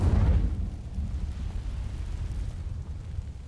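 The Incendio fire spell igniting dry vines in Hogwarts Legacy, with a heavy low burst at the start settling into a sustained rumbling roar of flames.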